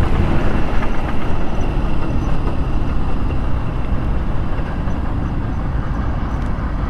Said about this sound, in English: I hear a choo-choo train.